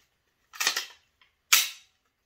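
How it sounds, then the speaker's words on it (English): Two sharp metallic clacks from racking the slide of a PSA Dagger Compact handgun, close and crisp, separated by about a second with a faint tick between them. "Slides nice and smooth."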